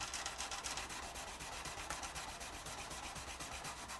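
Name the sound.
fret erasers rubbing on guitar frets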